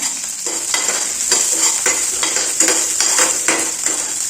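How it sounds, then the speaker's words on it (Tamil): Mustard seeds and chana dal fry in hot oil with a loud, bright sizzle and crackle, while a spoon stirs and scrapes the pan in repeated strokes. "நமக்கு கடுகு பொரிய ஆரம்பிச்சிருச்சு கடலையும் கலர் சேஞ்ச் ஆகிடுச்சு"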